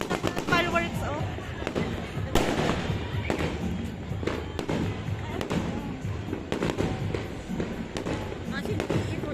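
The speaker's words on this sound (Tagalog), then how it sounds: "Kita niyo yung mga fireworks?" Rapid crackling bursts of fireworks pop and bang continuously, fairly loud, with people talking over the noise.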